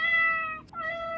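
A robotic toy cat gives a single electronic meow, a clear, close, tonal cry with a short break in the middle, heard alone.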